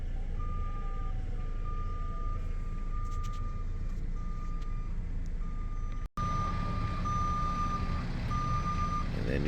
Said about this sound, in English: And then you got the garbage truck sounds.